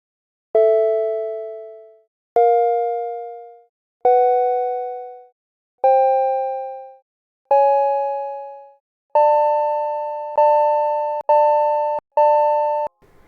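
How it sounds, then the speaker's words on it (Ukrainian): A series of pure, sustained two-note intervals, each struck and decaying, the final ones forming a wolf fifth, audibly beating and sour, with the last few repeated quickly. "цей дисонуючий звук назвали вовчою квінтою"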